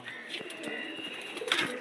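Soft, continuous cooing from a big pure Kanpur pigeon, a broad-winged racer-type bird raising young in a loft. It is moderately close and low in level, with faint background noise and a brighter burst near the end.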